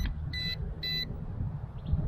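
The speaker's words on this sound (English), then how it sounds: "Hear about 3 beeps there," A YU XIANG F06 EC135 brushless RC helicopter emits three short, bright electronic power-on beeps in quick succession close by, over a low background hum.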